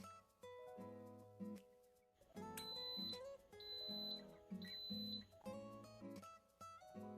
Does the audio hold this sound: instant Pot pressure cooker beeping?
yes